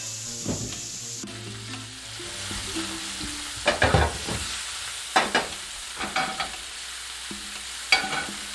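Shrimp for borracho shrimp tacos sizzle steadily in a pan, broken by several distinct scraping stirs of a utensil, with no talking.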